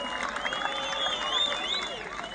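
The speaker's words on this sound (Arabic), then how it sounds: "تصفيق عليكم اجمعين" A festive crowd at a Ramadan tournament opening ceremony in El Mellassine cheers and applauds steadily, a dense, sustained wash of clapping and voices close by, with an announcer's speech woven through it.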